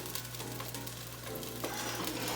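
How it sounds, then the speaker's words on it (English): Onion going into a hot pan with older sauce ingredients cooking down for a Sunday sauce, a dense close sizzle that swells slightly near the end, no talking. "I'm gonna add that onion."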